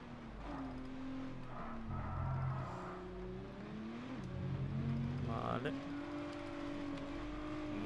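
A racing engine in the video game F1 22 whines up through the revs with quick gear shifts, rising and dropping repeatedly while someone talks over it.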